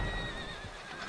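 A horse whinnies in Red Dead Redemption 2, a steady, close, drawn-out neigh that fills the whole moment, with soft hoof clip-clop beneath it and no talking.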